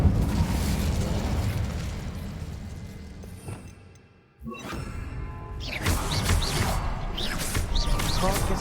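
A fire spell cast in Hogwarts Legacy on PS5 bursts out as a loud, roaring boom, dropping to a brief hush before crackling, rumbling game sounds surge back, with voices heard over the noise.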